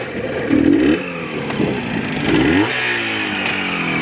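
A nearby Luxen motorcycle engine from Russia, not yet warmed up, revs up twice in rising surges, then settles into a steady rumbling idle.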